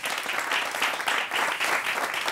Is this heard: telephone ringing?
no